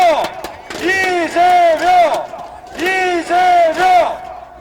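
A large crowd at a political rally in Daegu chants and shouts in loud, rhythmic bursts. Two pairs of sustained, voiced cries stand out over a continuous crowd din.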